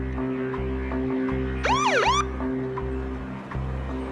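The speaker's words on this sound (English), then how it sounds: "I hit the siren to try and get her attention." A police car siren sweeps up and down in a short wailing burst over a steady low engine rumble, loud and fairly close, lasting about half a second of rising and falling tones before cutting off.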